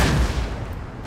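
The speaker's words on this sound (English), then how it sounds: "My foot artillery can still keep hitting their artillery" Foot artillery fires in Empire Total War, a single loud boom at the start that decays over about a second, with no voices.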